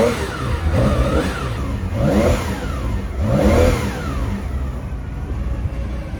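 A 1968 Porsche 911 engine revs up in three close, loud surges, each rising in pitch and falling back between blips, with a rough idle rumble underneath.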